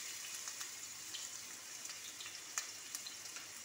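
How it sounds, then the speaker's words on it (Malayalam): Garlic paste, ginger and green chillies fry in hot oil in a pan, giving a steady, close sizzle with a few sharper crackles and pops scattered through it and no voices. "നമ്മളൊരു പാത്രം വെച്ച് എണ്ണ ഒഴിച്ച് അത് നന്നായി ചൂടായി വന്നിട്ടുണ്ട്. ഇനി ഇതിലേക്ക് നമുക്ക് 1 ടേബിൾ സ്പൂൺ ഗാർലിക് പേസ്റ്റ് ഇട്ട് കൊടുക്കാം"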